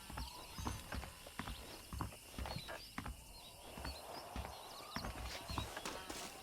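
Horse hooves clip-clop steadily in the Red Dead Redemption video game, a walking rhythm of hoof strikes over a constant ambient bed with faint bird chirps above.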